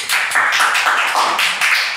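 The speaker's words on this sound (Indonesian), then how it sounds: "Tepuk tangan." A small group clapping in bursts, steady overlapping hand claps that rise and pause in short waves, fairly close and with no voices over them.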